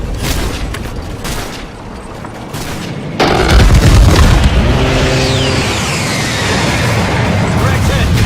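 Massive air-strike explosion slams into a tank on a street in the Modern Warfare video game, a sudden deep boom that rolls into sustained rumbling and crackling debris, loud and close, with battlefield noise and voices around it.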